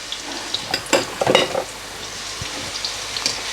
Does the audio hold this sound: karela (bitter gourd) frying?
yes